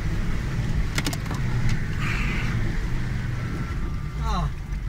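An off-road vehicle rolls onto a dirt trail, its low engine rumble steady beneath clatter and creaks, with people talking over it.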